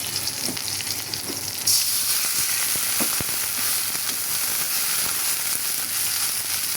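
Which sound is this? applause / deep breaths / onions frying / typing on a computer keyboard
onions frying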